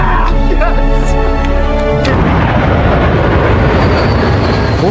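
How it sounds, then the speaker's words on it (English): An airplane taking off in a film scene about an escape from Iran: loud, rising engine whine with tonal layers, then a dense roaring rumble that carries on steadily to the end. "Fortunately, Tony's plane successfully took off and left the Iranian airspace."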